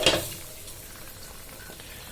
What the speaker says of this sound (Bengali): এটা ভালোভাবে কষে যাক, তারপর আমি কচুরলতিগুলো দিয়ে দিব।